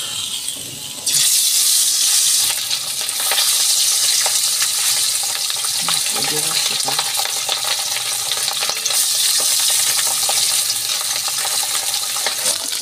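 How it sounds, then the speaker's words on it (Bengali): Small pabda fish drop into hot mustard oil in a kadai, setting off a sudden loud close sizzle that hisses and crackles steadily for the rest of the clip, with no talk. "আমার তেল গরম হয়ে গেছে, আমি এবার দিয়ে দিচ্ছি মাছগুলো।"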